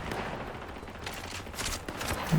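Gunfire rattles in the Fortnite video game as a dense, steady, mid-distance fusillade of rapid shots, with a few sharper cracks near the end and no talk.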